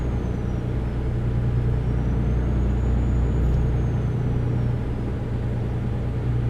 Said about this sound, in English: This truck does kind of have a nice sound to it.